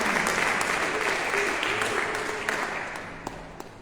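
A chapel congregation claps together in steady, dense applause at a prayer service for the sick, a broadband wash that slowly fades over a few seconds.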